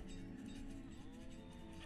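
Cattle moo in the video game Banished, a continuous low bovine lowing over a faint farm-game backdrop.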